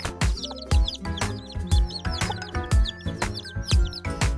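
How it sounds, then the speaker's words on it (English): Repeated clucking and squawky calls from chickens, loud and close, with rhythmic thumps underneath and a busy, layered barnyard feel. "Here's a chicken. She says cluck, cluck."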